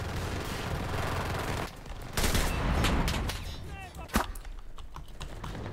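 Rapid gunfire in the World War II shooter Enlisted, bursts of sharp cracks and dense rattling shots over continuous battle noise, with one especially loud close report near the end.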